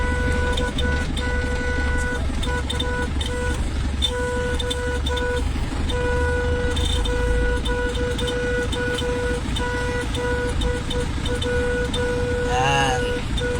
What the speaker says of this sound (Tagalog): Nagsasarili yung busina